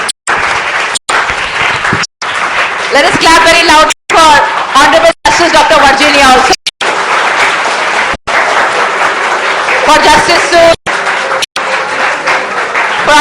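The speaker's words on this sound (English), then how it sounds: "Let us clap very loud for" Audience applause at an afternoon session of a judicial conference, clapping in bursts broken by short silent gaps, with a voice speaking over the crowd and brief chuckles in places.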